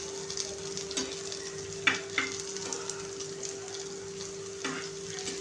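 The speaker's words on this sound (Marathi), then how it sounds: "आता ह्या वड्या ज्या पलटल्यात आपण, ह्या आणखीन फक्त 2 मिनिटं आपल्याला फ्राय करून घ्यायच्या आहेत." Flipped coriander vadi, a gram-flour and fresh coriander snack, fry in a pan with a steady close sizzle, occasional light stirring taps, and a faint hum underneath.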